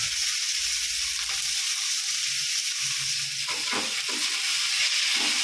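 Tomato and curry leaves sautéing in hot oil for a Tamil brinji rice, giving a steady close sizzle with scattered stirring scrapes and crackles building toward the end.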